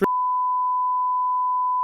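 A censor bleep covers a phone number read aloud on a podcast: one steady, loud, pure electronic tone held for nearly two seconds, with a brief burst of voice at the start.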